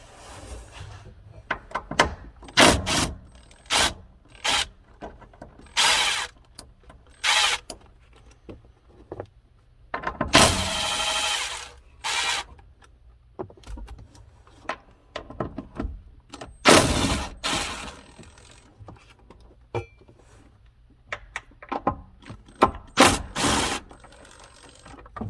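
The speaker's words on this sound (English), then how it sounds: "we're going to remove these 2 bolts right here, which is for your door anchor" A wrench or socket works bolts free from a Jeep's door anchor, giving a series of sparse metallic clicks, ratcheting bursts and clanks. The faint, scattered sounds are separated by pauses and hum, with no talk.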